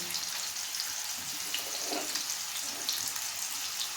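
Potato pieces fry in a pan for a potato and dried fish curry, giving a dense, even sizzling hiss close by that holds steady for a few seconds, with no talk over it.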